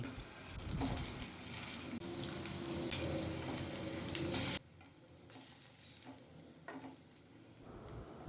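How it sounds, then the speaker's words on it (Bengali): Cabbage pakoras deep-frying in hot oil, a loud bubbling sizzle with stirring as the fritters are turned, then cutting off sharply to a quieter crackle and a few light clinks; no voices. "সবকটা পকোড়া উল্টে দিয়ে অন্য পাশও ভালো করে ভেজে নেব"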